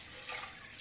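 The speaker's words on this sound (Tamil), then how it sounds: "இப்போ இந்த பருப்பு வேக வைக்கிறதுக்காக நான் வந்து தேவையான அளவு தண்ணி ஊற்றிக்கிறேன்" Water pours from a vessel into cooking lentils for mutton bone sambar, a steady close splashing rush filling the short moment with no voices.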